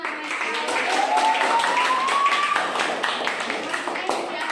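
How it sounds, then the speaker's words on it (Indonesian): An audience claps for group 5 in a classroom presentation, a steady stream of many hands with sharp taps throughout, close and fairly loud, while a voice carries on over the top. "beri aplaus untuk kelompok 5"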